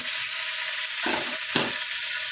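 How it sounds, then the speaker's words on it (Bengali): A snack frying in a pan gives a soft, even sizzle, with two short scraping stirs against the pan near the end and no voices. "এটা ভেজে নিই"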